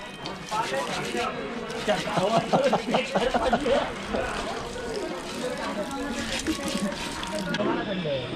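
Cold running water from a tap splashes over hands being washed on the Kedarnath trek, a steady rushing under people talking throughout.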